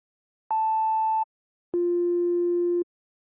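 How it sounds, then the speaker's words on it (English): Two clean synthesized sine-wave tones for a pitch drop: a short higher beep, a pause, then a longer, lower steady tone, each starting and stopping abruptly. "The first of which is going to be a pitch drop, and this is going to be just a sine wave"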